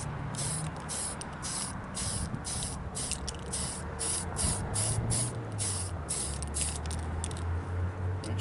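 Aerosol spray paint going on as a second coat over an RC car body outdoors in the sun, a close steady hiss in rapid pulsing bursts, loud and continuous.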